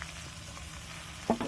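Onion and green chilies sizzle in hot oil with cumin, a steady soft frying hiss with a brief louder burst of crackle near the end, heard alone with no talking.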